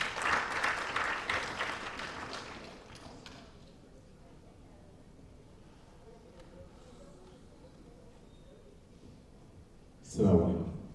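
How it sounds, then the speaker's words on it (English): Audience clapping at the Embrace Conference 2019 as Imam Dawood Walid of the Council on American Islamic Relations is welcomed: a dense burst for about three seconds that thins into a low murmuring room, then a brief louder swell near the end. "Please give him a hand of applause."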